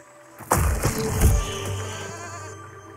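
Sheep bleat loudly in the physics building game Besiege, with a sharp impact thud among the cries before the sound tails off.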